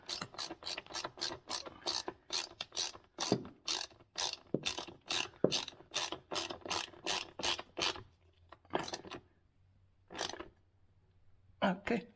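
A ratchet wrench tightens a 10 mm bolt on a 2000 Acura 3.2 TL during a power steering rack replacement: rapid, loud clicking bursts in steady strokes at close range, then a few slower, separate pulls.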